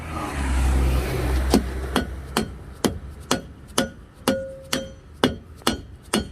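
Dead blow hammer strikes a car wheel over its studs during a roadside repair, about ten dull, evenly spaced thuds, close and loud after a brief rumble of passing traffic.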